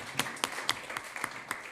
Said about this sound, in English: let's hear another round of applause for Abby.